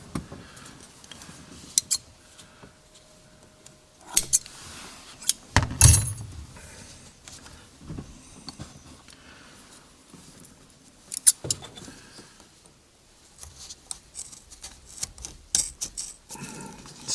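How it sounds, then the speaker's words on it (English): A few sharp metallic snips from scissors cutting windlace on a 1948 Chevy interior, spaced irregularly, with light clinks and handling noise in a quiet room. "Snipping off about half an inch there."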